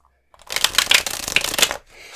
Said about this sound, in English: then we're going to shuffle your tarot cards and draw them